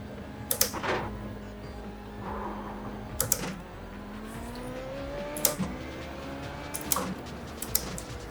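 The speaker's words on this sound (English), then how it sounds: "You'll hear the engine being limited, so on lights out, shift into first, modulate your throttle and disengage your clutch" Formula Renault 3.5 race car sitting at launch in the iRacing sim, its engine held against the limiter with a steady drone and rising harmonics, punctuated by several sharp bangs and a final climbing tone as it pulls away.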